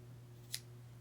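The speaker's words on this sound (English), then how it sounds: "I'm just gonna cut" Scissors snip once through crochet yarn after a granny square is finished, a single short crisp cut over a steady low hum in a quiet room.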